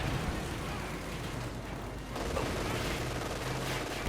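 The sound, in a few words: gunfire and machine guns in video game Company of Heroes 2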